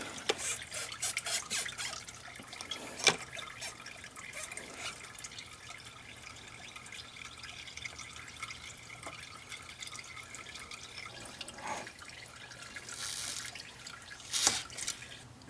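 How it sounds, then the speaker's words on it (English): Radiator fluid dripping from disconnected hose lines into a catch can on a 2002 Toyota Camry: faint, scattered close drips and small liquid splashes over a quiet background, without speech. "fluid coming out of these lines, so make sure you position your catch can to catch hopefully most of it"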